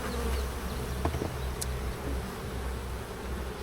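Dense, steady buzzing of a large mass of honey bees during a hive inspection, continuous and close, with no voices.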